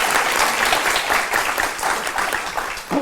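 Audience applause at a Sufi poetry gathering, a dense, continuous clapping that fills the short stretch at full volume.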